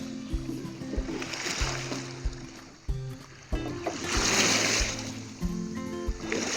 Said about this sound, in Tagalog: Tingog sa tubig.